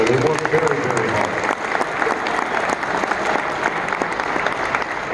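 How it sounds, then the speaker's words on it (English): A room of fans claps steadily for the staff at a Cincinnati Reds caravan Q&A in Charleston, with a voice talking briefly at the start over the applause. "And please, a round of applause for all of them here."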